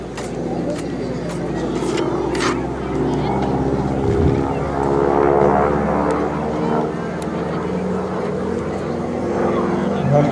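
A T-6 airplane making a pass over the airport at an air show, its propeller engine droning steadily and swelling slightly as it passes, with people talking nearby.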